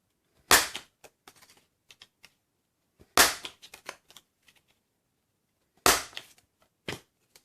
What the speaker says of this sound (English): Again, I'm going to corner round my edges.